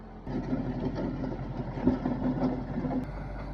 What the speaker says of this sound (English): brought over their tractor to help level out some of the rough spots in our driveway before the gravel goes down